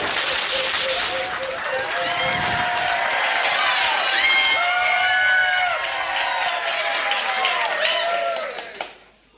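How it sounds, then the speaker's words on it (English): A pub quiz crowd claps and cheers for the winning team, with whoops, whistles and shouts layered over dense clapping that builds, holds loudly, then fades out at the end. "give them a huge round of applause"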